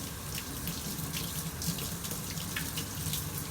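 Tap water runs steadily from a faucet into a sink while orchid roots are rinsed during repotting, a continuous close splashing hiss with no voices.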